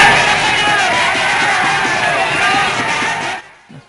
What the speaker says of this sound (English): A large crowd attended the rally